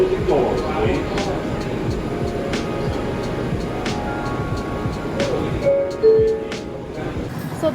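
A New York City subway train ride at midday on a weekday, with a continuous loud rumble and rattle of the moving car, periodic clanks and squeals, and a short chime-like tone near the end.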